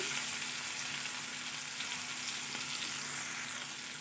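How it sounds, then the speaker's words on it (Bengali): Drumstick and vegetable chachchari with chopped tomatoes fries in a pan, a dense, even, quiet sizzle holding steady close by, with faint stirring and no voices. "এবার ঢাকা খুলে দেখে নিচ্ছি একটু নাড়াচাড়া দিয়ে দিয়ে দিচ্ছি কেটে রাখা টমেটো"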